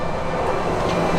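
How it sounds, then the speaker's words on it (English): A monorail rumbles past at the Esplanade, a loud, close, continuous rolling hum over the brief moment. "when you see the monorail go by, it just feels nice"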